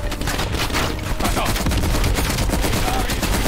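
Dense bursts of automatic gunfire rattle loudly and continuously in a Call of Duty Cold War match. Rapid overlapping shots fill the whole stretch with a busy, crackling barrage and no pauses.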